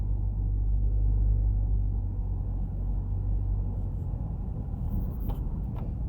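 A car drives beneath a busy intersection in Jamaica, its steady low road rumble and engine drone filling the whole stretch, with a faint rattle of passing traffic toward the end.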